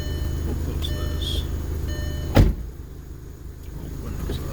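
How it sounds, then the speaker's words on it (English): The power windows of a Mark IV Volkswagen whir up in short hesitant bursts inside the car, ending in a sharp thump as the glass seats, followed by a quieter hum. "The windows in this car are atrocious. They go up, but in small steps."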